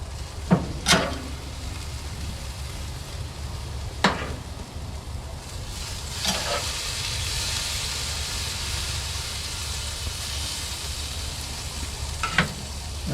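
Meat sizzles steadily on a smoky barbecue grill running at 300 degrees, a constant frying hiss broken by a few sharp scraping clinks as the pieces are turned over.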